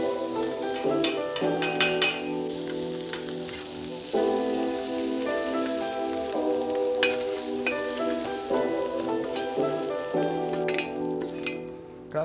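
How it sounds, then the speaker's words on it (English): Smoked sausage browns in a pan for Cajun green beans, a continuous sizzle under a loud tonal background, with scraping stirs and occasional clinks over several seconds, no voices. "now we're gonna brown our smoked sausage"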